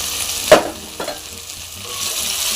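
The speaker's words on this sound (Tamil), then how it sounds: "கொட்டி அதை நல்லா ஒரு வதக்கி விடுறோம்." Capsicum soya gravy mixture poured into hot oil and sautéed in a pan for chapati, idli or dosa, giving one sharp clatter of the spoon, then a fainter stroke and a steady soft sizzle with no talking.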